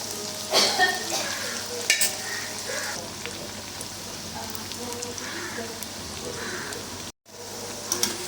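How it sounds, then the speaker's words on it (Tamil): Battered cauliflower 65 deep-fries in hot oil, a steady bubbling sizzle with a few louder crackles and stirring clinks, briefly cut off near the end before resuming. "அடுத்து ஒரு கோட் மட்டும் பொரிச்சு எடுத்துடலாம்."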